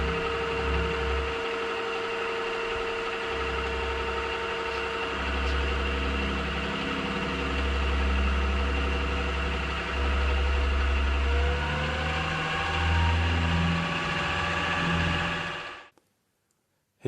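A milling machine hums steadily as it mills the end of round steel stock held in a vise, a continuous close mechanical drone with slight shifts in tone, cutting off at the end.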